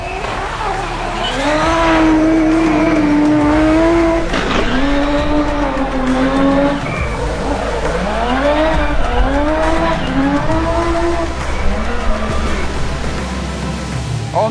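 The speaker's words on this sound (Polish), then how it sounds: "O, przygon leci." Drift car on a run at a Drift Masters competition in Riga, engine wailing through rising and falling revs with tire squeal, loud and continuous across the whole stretch, a voice briefly audible.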